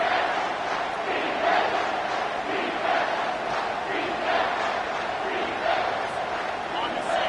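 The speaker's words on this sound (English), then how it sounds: "Third down, and this crowd is tearing the lid off this place." A college football stadium crowd roars loudly and continuously on a third down, with a broadcast commentator talking over the din.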